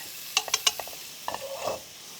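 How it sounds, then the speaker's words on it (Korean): Garlic stir-frying in hot oil in a wok for Korean chive japchae, a few sharp clinks of a utensil on the pan followed by soft sizzling and stirring, close and fairly quiet. "충분히 한번 볶아주고"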